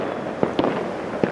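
Lunar New Year firecrackers go off across a city, sharp distinct bangs spaced out over a haze of distant crackling and echoing noise, with a few louder pops standing out.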